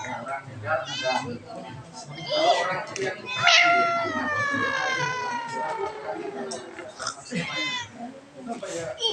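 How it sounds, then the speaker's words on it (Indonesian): Cat meowing repeatedly in drawn-out, wavering cries, some rising into caterwaul-like wails, close and fairly loud, with background chatter and children's voices underneath. "Kucing China."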